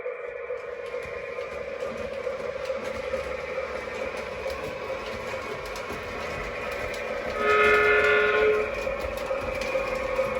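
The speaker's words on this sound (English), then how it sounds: "So the train is going to carry on out to staging." A Menards SOO Line O gauge model train runs with a steady, even rumble that holds throughout, briefly rising in a bright whistle-like tone about three quarters of the way through.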